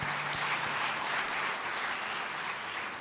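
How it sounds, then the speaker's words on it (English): A large audience at an ICAR-NAARM 48th Foundation Day celebration gives a big round of applause, a dense, even wash of clapping that stays steady throughout and fades slightly at the end. "You join with me with a big round of applause for the icing on the cake"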